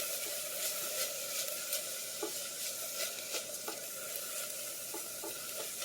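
Vegetables softening in a pot over lowered heat for a homemade Sunday gravy, a soft steady sizzle with occasional light stirring taps, fairly quiet and with no talk.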